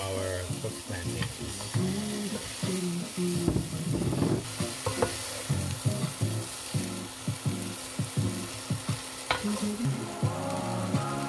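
Black beans and cooked plantains sizzle in a frying pan and are stirred steadily, with repeated scrapes over a continuous fry, close and alone with no talk.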